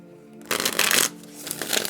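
Spirit animal oracle cards are shuffled close up in quick riffling bursts, loud and papery, with a brief pause between bursts and no talk.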